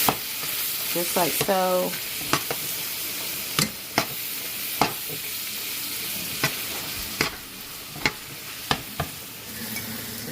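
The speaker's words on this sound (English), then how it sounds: "So I'm just going to stir this up in here" Beef being stirred with flour in a hot pan for stroganoff, a steady sizzle broken by sharp repeated scrapes and clinks of the spoon against the pan, with brief talk early on.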